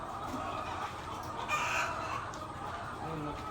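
Chickens clucking amid a dense, steady background of farmyard noise, with one brief louder call rising midway.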